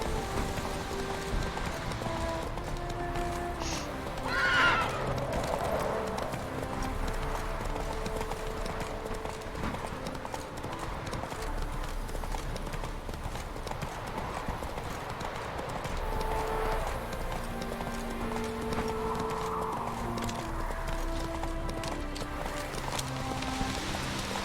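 Roach, a horse in a video game, gallops with a steady, rapid clip-clop of hooves that runs the whole time at an even level, over faint ambient game sound and with no clear neigh.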